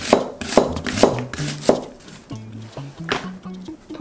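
A knife chops a quarter of an onion on a board in a steady series of close, sharp taps, with soft low tones beneath and a slight slowing toward the end.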